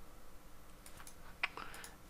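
Faint clicks of a computer mouse or keyboard in a quiet room while working in Excel, a few soft taps with one sharper click midway.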